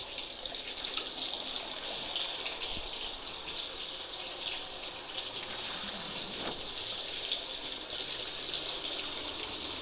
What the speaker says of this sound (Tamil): தண்ணி ஊற்றுதுங்களா?